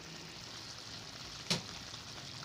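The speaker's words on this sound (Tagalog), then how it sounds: "takpan lang natin sandali at lutuin natin yung kanyang sibuyas" Onions cook in a covered pan with a steady, soft sizzling hiss throughout, broken once by a brief light tap.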